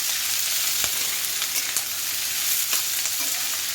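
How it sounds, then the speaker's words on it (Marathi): Ivy gourd pieces frying in hot oil over full heat, making a steady, close, loud hissing sizzle with a few brief crackles and scrapes of a stirring spoon and no talking. "हे तोंडले चांगले फ्राय करून घ्यायचे"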